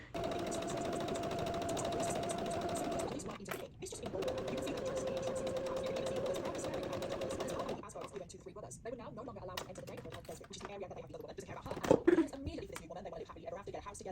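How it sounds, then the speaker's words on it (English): A sewing machine stitches crochet pieces into a tote bag and book sleeves, running in a steady, close whirring hum for several seconds, then stopping and giving way to quieter handling noise. "So let's get some of this stuff sewn together."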